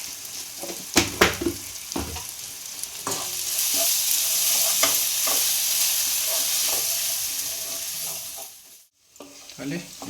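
Spices including coriander powder and turmeric sauté with chicken for a chicken curry with potatoes, making a loud, close, continuous sizzle broken by stirring scrapes and a brief pause near the end.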